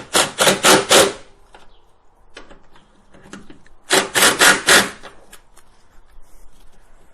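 A ratchet wrench tightens bolts on the front fender of a 2017 Ram, giving two close bursts of rapid, loud clicking strokes separated by quieter handling noise.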